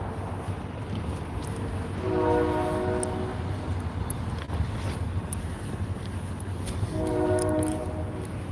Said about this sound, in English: Train coming.